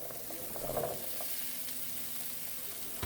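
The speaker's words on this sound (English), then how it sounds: "I am now going to saute my potatoes for 10 minutes" Potatoes sauté in cooking oil in a large skillet, a soft steady hiss of frying with a few faint utensil taps near the start, fairly quiet and unbroken.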